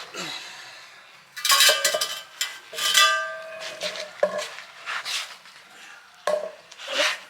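Wheel bearing grease is worked onto a U-joint during installation on a vehicle driveshaft, with close, intermittent rubbing and light metallic scraping in short bursts separated by quiet gaps.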